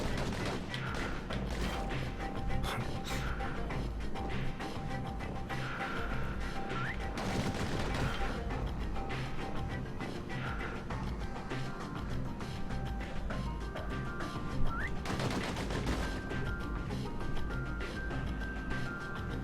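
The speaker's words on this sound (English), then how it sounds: "Those pistols could spit out rounds just as quick as you could pull the trigger." Rapid pistol fire in the action video game Bastion, with bursts of quick shots and impacts over a constant layer of game music and effects, dense and steady throughout.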